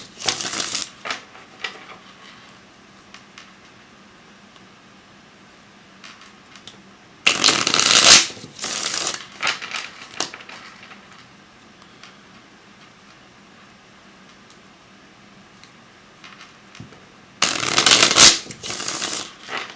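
A small deck of divination cards being shuffled, with soft rustling and two sharp, close riffle bursts, quiet and without speech.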